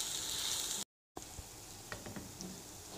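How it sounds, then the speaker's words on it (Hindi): Chopped onions fry in a pan with a steady, close sizzle that is cut briefly by a moment of silence, then resumes under a few faint clinks. "प्याज मैंने काट के रखी हुई हैं, वो हम इनको फ्राई करेंगे।"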